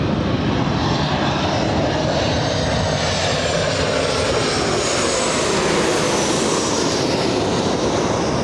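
A Boeing 737NG airliner arriving at Los Angeles International Airport, its jet engines producing a loud, continuous broadband roar that holds steady and swells slightly as the plane passes close by.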